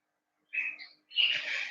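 Pet bird giving its mating call indoors, two short bursts of high, whistly chirping close by, separated by a brief pause, in an otherwise quiet room.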